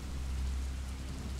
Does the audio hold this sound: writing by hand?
no